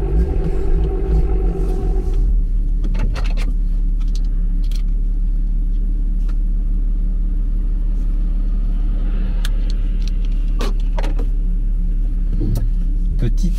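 BMW M240i with catalytic converter, engine and exhaust rumbling loudly and steadily throughout, a deep continuous drone close by with a few sharp transients and no talk over it.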